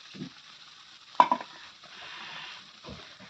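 Sautéing in a pan for a fish curry with mustard paste: a faint, low sizzle with one sharp metallic clack of a utensil and a brief scrape of stirring.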